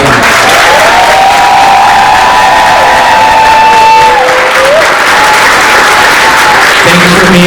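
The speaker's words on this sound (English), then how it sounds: "Please join me in one more final round of applause for all the honorees" Loud, sustained clapping from a large crowd at a senior awards night, with cheering and whistles mixed in throughout.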